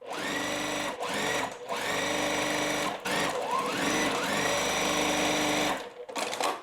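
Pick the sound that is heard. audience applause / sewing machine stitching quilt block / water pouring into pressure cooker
sewing machine stitching quilt block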